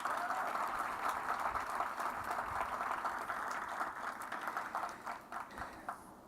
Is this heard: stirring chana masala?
no